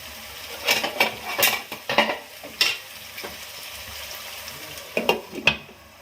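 A lid goes onto a frying pan of potatoes and pointed gourd in a series of sharp metallic clinks and clatters, spread unevenly over a soft, low sizzle.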